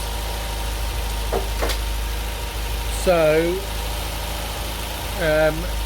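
An MGB GT engine idles steadily at 1500 rpm during ignition timing adjustment, with a constant low drone throughout, while someone speaks briefly over it.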